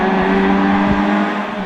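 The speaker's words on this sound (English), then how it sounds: "We'll just listen to the revs, eh?" A small Ford Escort rally car engine revs hard and steady nearby during a rally stage, a loud buzzing drone with strong harmonics throughout.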